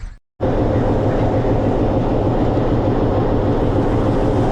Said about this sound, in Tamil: நமக்கு பின்னாடி டாய் ட்ரெயின் நிற்கிது.